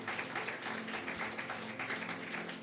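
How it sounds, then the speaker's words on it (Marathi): A church congregation at a Sunday service clapping their hands together, a continuous dense patter of applause filling the space with no voices over it. "टाळ्या वाजवा, धन्यवाद द्या."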